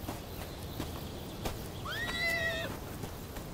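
A horse whinnies clearly for about a second, a bright wavering neigh rising and falling, preceded by a few scattered hoof clops and light outdoor background noise.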